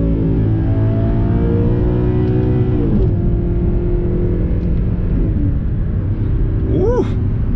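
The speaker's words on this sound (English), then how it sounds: "Ooh, that downshift under the overpass though." The engine of an Audi R8 revs and rumbles on a downshift while passing under an overpass, staying loud and close throughout, with a rising whine near the end.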